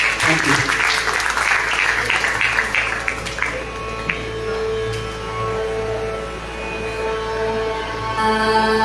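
At a Sur Vishwas Kumarmanch music program, the audience applauds the students with a brisk burst of clapping that fades after a few seconds into sustained musical tones.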